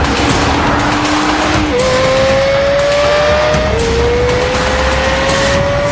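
A Nissan GT-R sports car with a hand-built engine drives hard, its engine pitch climbing through successive gear changes with high tire-squeal tones over a loud, constant roar, with no talking.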